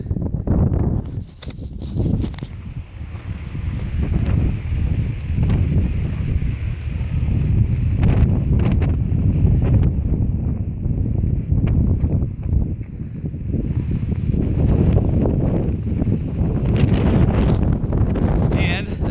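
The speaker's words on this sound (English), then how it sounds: "it's really windy up here" Strong wind buffets the microphone on a mountain top along the Appalachian Trail near Newfound Gap, a loud, continuous roaring rumble with gusty swells throughout.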